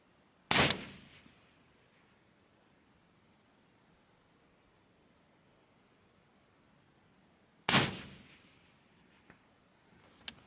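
Two rifle gunshots firing 77 grain rounds ring out loud and sharp, several seconds apart, each with a short decaying echo, followed by quiet outdoor background.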